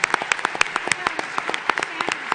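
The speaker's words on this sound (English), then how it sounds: "A round of applause for Terence Corcoran." Scattered clapping from a business outlook event audience, with sharp individual claps spaced unevenly and fairly close, never building into a dense roar.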